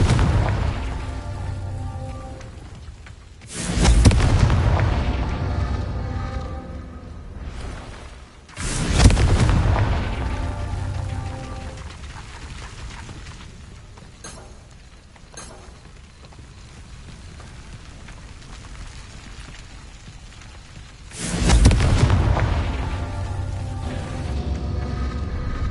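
Confringo blasting spells going off in a wizarding video game: three heavy, booming explosions spaced apart, each a loud close burst that rumbles and fades over a low ambient background.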